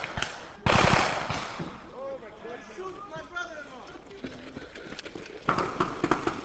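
Gunfire during a military training exercise in a mock Iraqi village, with bursts of shots, some rapid and machine-gun-like, over a background of shouting voices and movement, at moderate distance.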